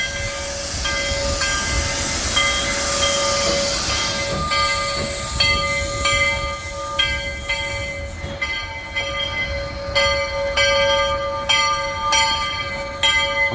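A steam train stopped to take on water, hissing steam continuously while its bell rings in a steady repeated clang, close and loud, the bell strokes growing more frequent toward the end.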